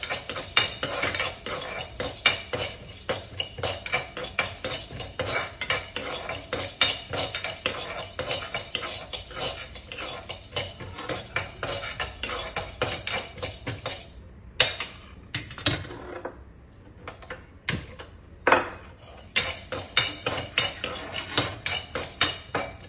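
Lotus seeds dry roasted in a pan and stirred with a metal utensil, giving a steady run of rapid scraping clinks and rattles close by that pauses briefly midway and then resumes, with no talking.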